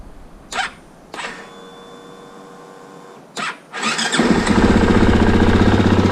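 A 2018 KTM Freeride 250F dirt bike is started from cold. A few sharp clicks and a whirring crank come first, then the engine catches and settles into a loud, steady, close-up idle.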